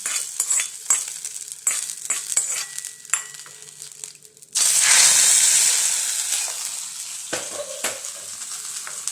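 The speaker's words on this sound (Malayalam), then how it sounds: "കടുക് വറുത്തത് ആ ചൂടോടെ തന്നെ നമുക്ക് ആ കറിക്കകത്തോട്ട് ചേർത്ത് കൊടുക്കാം." Hot fried mustard seeds are poured into a homestyle curry made without fish. Scraping and clicking stirring comes first, then a sudden loud sizzle that slowly fades, followed by more stirring taps.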